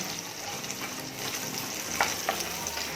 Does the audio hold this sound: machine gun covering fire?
no